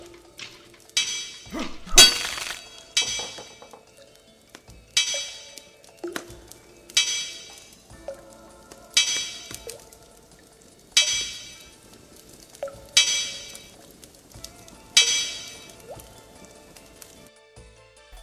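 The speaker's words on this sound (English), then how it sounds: "Starting the first part of the smithing grind with 230 bronze bars" Repeated metallic hammer clinks from smithing bronze bars in RuneScape, a bright ringing strike roughly every two seconds with short decaying tails, steady and alone without talk.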